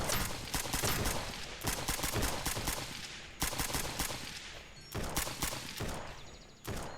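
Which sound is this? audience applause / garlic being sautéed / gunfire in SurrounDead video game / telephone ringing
gunfire in SurrounDead video game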